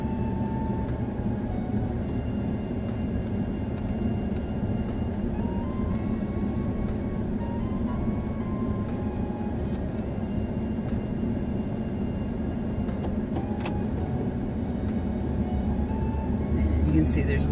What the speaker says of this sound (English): You can see there's a lot of traffic out here